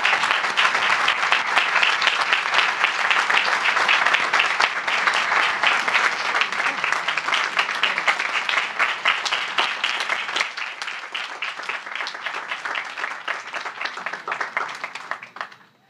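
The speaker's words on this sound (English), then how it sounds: "Please join me one more time in applauding this year's Manly E. Wright Award winner, Kelly Ocean." A commencement ceremony crowd applauds an award winner: dense, sustained clapping from a large audience, steady for about ten seconds, then gradually thinning and fading out.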